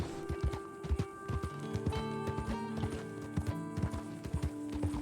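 Steady clip-clop of horse hooves trotting at an even rhythm in the video game Red Dead Redemption 2, close and clear, over a low musical backdrop.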